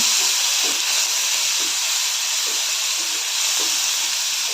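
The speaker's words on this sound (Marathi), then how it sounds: "थोडी कडीपत्ताची पानं टोमॅटो सर्व परतून घेऊया लालसर होईपर्यंत परतून घेऊया" Curry leaves, onion and tomatoes sauté in a hot pan, giving a steady, loud, hissing sizzle with a few faint scraping taps underneath, no voices.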